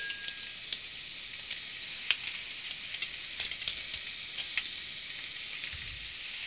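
Carrots, peanuts and cashews cook in a pan with a steady, gentle sizzle and frying crackle throughout, marked by occasional louder pops and faint stirring.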